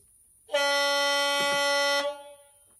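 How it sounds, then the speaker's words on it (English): A single steady low-pitched air horn blast from an OO gauge Accurascale class 37 model locomotive's DCC sound sounds for about one and a half seconds, then cuts off, with faint clicks partway through. "Function four is the low-tone air horn."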